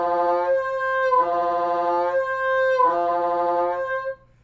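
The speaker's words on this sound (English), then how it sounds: "So the next multiphonic is the underblown C5 multiphonic" A woodwind plays an underblown C5 multiphonic on a high C fingering, an unsteady wavering chord that drops out and returns in three uneven pulses, close and alone without speech.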